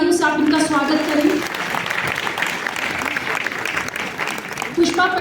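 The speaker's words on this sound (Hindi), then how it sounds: "कृपया जोरदार तालियों से आप इनका स्वागत करें।" Audience at a women's honour ceremony in Shimla gives warm, steady applause to welcome a guest onto the stage, a voice audible at the start and again near the end over the clapping.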